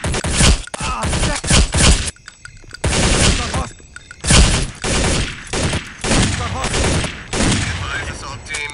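Heavy bursts of automatic gunfire in Counter-Strike: Condition Zero, rapid overlapping volleys broken by short pauses, loud and close throughout.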